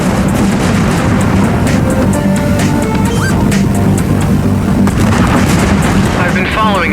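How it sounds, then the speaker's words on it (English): Explosion and weapon fire from the space combat game Everspace 2, a loud, dense rumbling roar with booms and whooshing tones, continuous throughout with a voice mixed in. "Explosion imminent."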